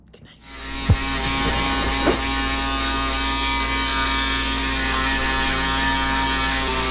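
An electric razor starts up and runs with a steady close buzzing drone, with a couple of brief clicks as it moves across the skin.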